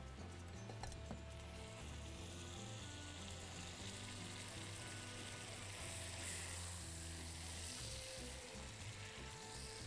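A veal cutlet sizzles steadily as it fries in a pan, a continuous soft crackling hiss that holds at a fairly even level throughout, with no voices.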